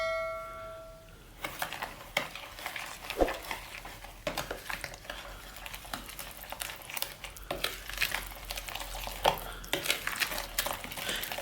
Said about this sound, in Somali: waxa sameeynaa waa isku walaaqeynaa